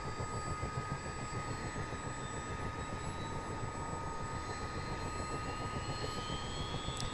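A CH-47D helicopter engine spins up inside a motion simulator, giving a steady, dense turbine roar with a faint high whine running through it, continuous and even throughout.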